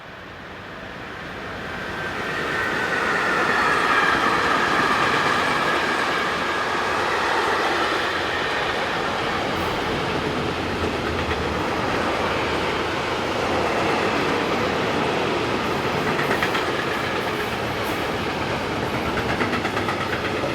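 Electric locomotive 185076 hauls a freight train from München to Gremberg, swelling from a distance into a steady rumble of passing wagons with faint wheel squeal.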